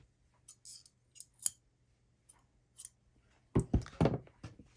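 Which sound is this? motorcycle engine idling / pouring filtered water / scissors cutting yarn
scissors cutting yarn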